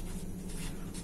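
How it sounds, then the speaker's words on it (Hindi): A pen scratches out a formula by hand, a short continuous scribble heard close up over a low background hum. "यहाँ पे मैं लिख देता हूँ आपको"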